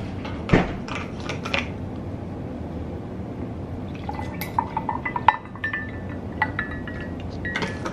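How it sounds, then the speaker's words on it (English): Two ice cubes clink and tap into a mug in a home kitchen, a sharp clatter near the start, then small glassy chinks and drips spread through the middle and end against a quiet room background. "I'm gonna get two ice cubes."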